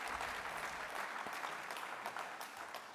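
An audience at a global forum plenary applauds young panel representatives on stage, a steady, full wash of clapping from a large hall that carries on evenly without a break.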